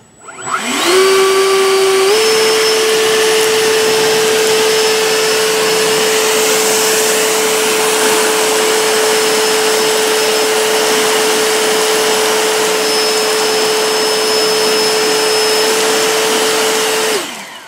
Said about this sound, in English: Yeah, it'll actually blow rocks.